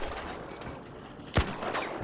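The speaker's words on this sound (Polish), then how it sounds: "jeszcze 2-3 strzały i nasz rakietowiec po prostu sobie ładnie upadnie" A weapon fires in the vehicle combat video game Crossout: one sharp, loud shot cracks out past the midpoint over a steady bed of game noise, with fainter rumbling afterward.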